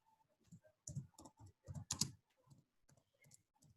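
Quiet clicks of a computer keyboard being typed on, with short irregular bursts of keystrokes and brief pauses, close and alone.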